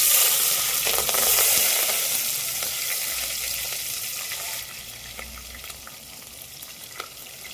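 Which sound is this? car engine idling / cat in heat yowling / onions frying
onions frying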